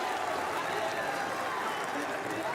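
Esports arena crowd at a Valorant semifinal between BBL and NRG, a continuous loud roar of cheering and applause filling the hall throughout, with commentary underneath.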